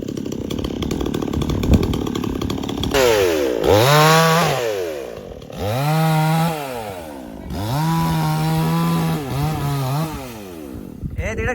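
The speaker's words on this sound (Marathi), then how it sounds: "लवकरात लवकर हे झाड कसं कटिंग होईल ते आपण आता बघूया" Chainsaw cutting a tree brought down by a windstorm with rain. The engine surges and falls back in repeated rising and dropping revs, with a burst of noise before them. It is loud and close, with some voices around it.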